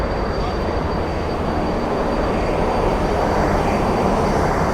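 Dense, constant roar of a passenger train at a Cairo station bound for Alexandria, Egypt, loud and unbroken with a steady rushing hiss.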